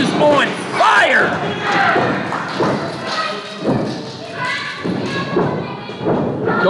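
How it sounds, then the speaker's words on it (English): Repeated heavy thuds of wrestlers slamming onto the ring mat during a tag-team match, several impacts in a row amid crowd noise, with a commentator talking over them. "And a deep arm drag by Bliss. Flip over. And a third arm drag."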